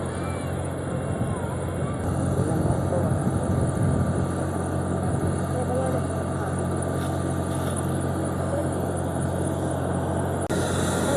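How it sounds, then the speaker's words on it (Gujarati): A helicopter that has just started stands on the ground before take-off at Palitana, its engine running as a steady broadband whine and rumble that holds throughout. "આ મોરારી બાપુને મૂકવા આવેલું હેલિકોપ્ટર હવે જો પાછું ચાલુ થઈ ગયું છે"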